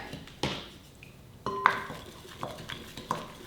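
A utensil stirs pickle juice in a bowl, giving a few scattered clinks and scrapes against the dish separated by quiet pauses, near and fairly soft.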